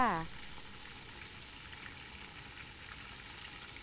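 Isan-style Thai sausages sizzle steadily in a hot pan, an even, continuous crackle close up with no talking.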